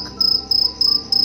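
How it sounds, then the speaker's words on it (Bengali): Crickets chirp at night in a forest, four crisp, evenly spaced trilling bursts, close and clear with no other sounds. "কেবল ঝিঝি পোকার ডাক"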